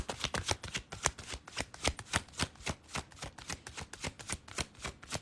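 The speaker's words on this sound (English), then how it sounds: "Let me get some clarifying cards up here." Tarot cards being shuffled close up for a live reading, a steady run of crisp riffling bursts repeating rhythmically for several seconds, no voice over it.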